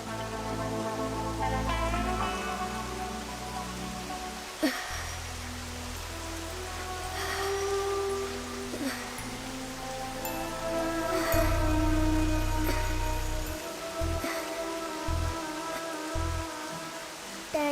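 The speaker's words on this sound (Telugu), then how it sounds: "వర్షం చాలా చల్లగా ఉంది" Steady rain hisses evenly for the whole stretch, with soft music sounding underneath it.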